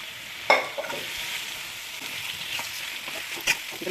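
Chicken fries in oil in a pan on the stove, a soft steady sizzle with a couple of sharp stirring clinks.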